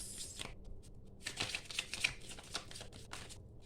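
Tarot cards being shuffled by hand, a run of soft papery riffles and flicks at close range, with no voice over it.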